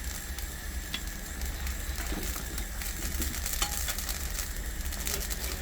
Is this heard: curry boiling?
yes